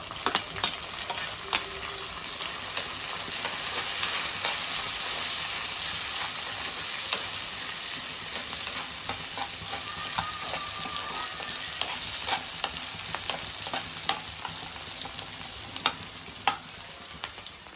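Green chillies fry in hot oil for a homemade pasta dish, giving a steady, close sizzle that runs throughout with occasional light clicks and pops.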